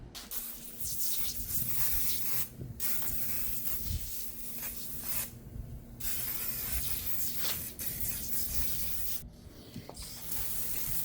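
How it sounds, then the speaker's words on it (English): Steady hissing spray bursts of S100 Total Cycle Cleaner being sprayed onto a Moto Guzzi V7 850 Special motorcycle, with brief gaps, close by, over a constant low hum, no talking. "I'm going to spray down the bike with S100 Total Cycle Cleaner"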